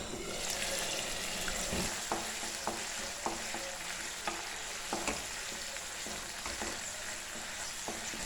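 Tomato rasam, a Kerala-style dish, simmers in a pot with a steady broad sizzle while a spoon scrapes through it in repeated clinking strokes, fairly close and moderately loud.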